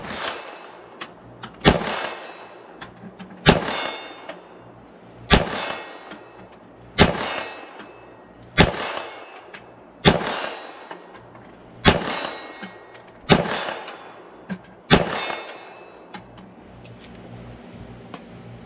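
Nine ringing clangs from 9mm rounds fired by a Smith & Wesson M&P 2.0 Spec series metal pistol striking a steel plate 40 yards out, each sharp report followed by a metallic ring, spaced evenly about every two seconds.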